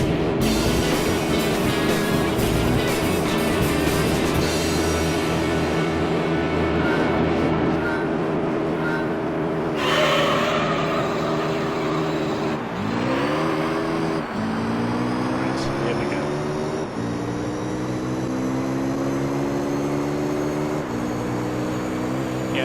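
A race car engine in Gran Turismo 3: A-Spec, a dream car race, droning and revving continuously with repeated gear-shift pitch drops and climbs, loud throughout, with someone talking over it at times.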